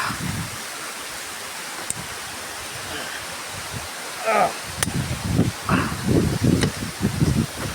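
Dampalit Falls, a waterfall in Laguna, rushes steadily and close by for the whole stretch, with voices and movement breaking in over the water toward the end.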